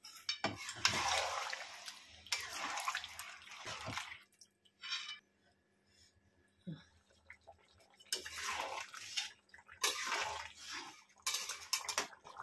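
Water poured into a pot of cauliflower and potato curry, several bursts of splashing and pouring separated by pauses, with drips and a faint knock of a pot, close and moderately quiet.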